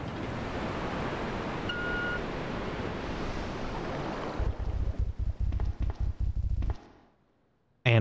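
In a video game sewer, a waterfall's steady rushing roar cuts off abruptly, followed by pulsing mechanical draining thumps that fade into near silence.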